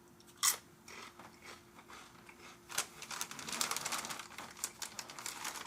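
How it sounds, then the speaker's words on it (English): Someone bites into Doritos tortilla chips, giving a sharp crunch followed by a run of brittle chewing crunches, close and fairly loud with no speech. "The same Dorito crunch, which I love."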